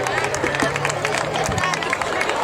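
A crowd applauds steadily at a youth handball trophy presentation in Baiona, a dense, continuous patter of many hands with a low hum and murmuring voices underneath.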